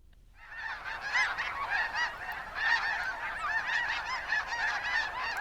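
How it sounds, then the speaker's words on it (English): A large flock of greater white-fronted geese calls continuously, with many overlapping honking and yelping voices forming a dense, fairly close chorus that builds after a quiet start and stays steady throughout. "To me, it sounds like greater white-fronted geese."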